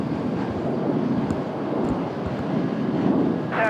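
Airliner taxiing at Dallas airport, a steady low engine rumble with some wind buffeting, moderately distant and continuous, no voices.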